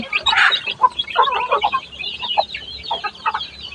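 Chickens cluck and chatter in quick, uneven bursts, close by and fairly loud, with several birds calling over one another during feeding.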